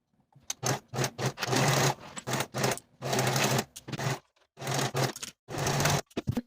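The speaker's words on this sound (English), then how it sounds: "Now I'll take it to my serger and sew each of those seams with a 3/8 inch seam allowance" A serger stitches the seams of a reversible swimsuit at a 3/8 inch seam allowance, whirring in close, loud bursts of about a second each, separated by brief pauses.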